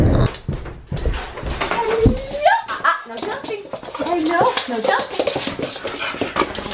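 Small dog panting and whimpering on a family's return home, with several people talking and greeting the dog over the top, the dog sounds close and intermittent under the voices.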